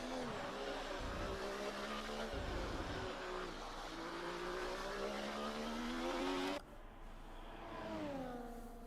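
Race car engine in a racing video game, straining in wet conditions at the Netherlands round, droning at a steady pitch with gear-change breaks and rising whine, heard continuously and close.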